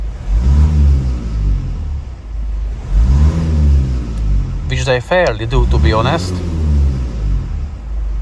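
A Mazda 6 Skyactiv engine with a blocked exhaust pipe revs in repeated rising surges over its idle rumble, while someone talks steadily across the revs.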